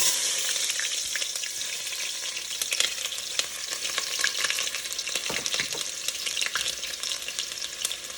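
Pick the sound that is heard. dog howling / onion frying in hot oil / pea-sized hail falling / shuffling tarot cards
onion frying in hot oil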